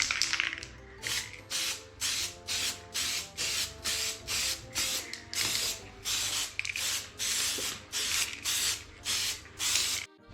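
Short, even bursts of aluminum-colour spray paint hiss from a can onto fork parts of a 1987 Honda NSR50 moped, about a dozen close, loud sprays in a steady rhythm with brief pauses between them.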